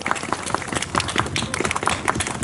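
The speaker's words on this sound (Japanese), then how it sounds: "両舞台にもう一度大きな拍手をお願いいたします" A crowd at a samurai-troupe performance stage event in Japan applauds the performers, with brisk, dense, continuous clapping that stays loud and close throughout.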